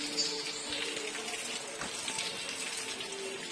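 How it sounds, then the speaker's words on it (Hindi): Lots of water flowing and splashing in the early morning, a constant broadband gush with no talk over it. "देख सकते हो पानी कितना चालू है, अभी भी बहुत पानी चालू है।"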